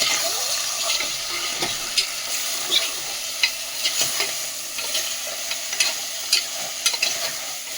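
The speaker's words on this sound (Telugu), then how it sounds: "అందులో వేసేసుకొని కొంచెం బాగా కలుపుకోవాలి ఇలాగా" Goat head curry is stirred in a pan over the heat, a wet sizzle broken by repeated scraping and sloshing strokes of the spoon at an irregular rhythm, close and fairly loud.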